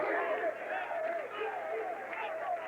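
A crowd at the 1998 PBA Albuquerque Open professional bowling event chants a bowler's name in a steady, rhythmic group cry, fairly distant and continuous.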